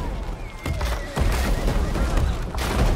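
Dense, continuous volleys of gunfire from a Total War: Three Kingdoms battle, loud and rattling with overlapping shots and booms throughout, heard without clear speech.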